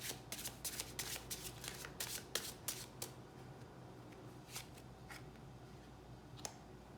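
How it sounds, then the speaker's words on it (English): Tarot cards being shuffled close by in quick riffling bursts, with softer rustling in between and a low background hum. "Last shuffle."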